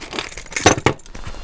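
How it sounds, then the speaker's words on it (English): Keys jangle and clink metallically in two short bright bursts near a homemade dual coil metal detector, close and fairly loud, with faint handling noise around them. "Try some keys."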